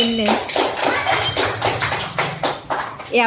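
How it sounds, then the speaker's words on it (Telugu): People clap their hands during a children's game on a no-bag school day, a run of sharp, evenly paced claps close by, heard under and between loud talking. "క్లాప్స్ కొట్టండి"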